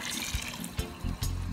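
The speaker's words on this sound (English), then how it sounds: "that motion of water forces the water to swirl in there" Water swirls and churns inside a Venturi mixer stirring compost tea, a steady close rush of liquid with gurgling surges and splashy pulses.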